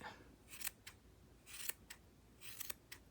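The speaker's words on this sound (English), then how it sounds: "You can also just cut, you can eyeball it" Scissors cut crochet yarn for a slouchy beanie: three quick close pairs of crisp snips, quiet and spaced about a second apart, with no voices.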